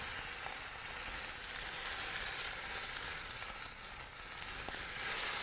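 Chicken browning in a Cuisinart Cook Central multicooker gives a steady, dense sizzle of frying that holds at an even level for several seconds, with no voices.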